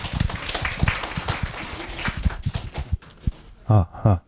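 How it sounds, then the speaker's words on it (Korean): Audience of parents clapping at a high school admissions strategy briefing as the speaker is welcomed, a dense patter of claps over the first few seconds before a voice begins speaking. "박수 한번 주십시오"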